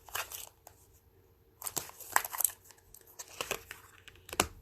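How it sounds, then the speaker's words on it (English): Tarot cards drawn from a deck give dry, crisp paper rustles and shuffling crinkles in several separate bursts, near and fairly quiet, with no talk. "I'm going to draw 3 more cards."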